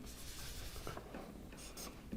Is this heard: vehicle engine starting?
no